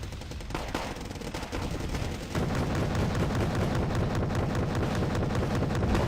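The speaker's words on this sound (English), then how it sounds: "The pirates give them some nice auto cannon support." Rapid, continuous autocannon fire from the Wargame Red Dragon video game, dense, loud bursts blending into a rolling barrage that grows heavier partway through.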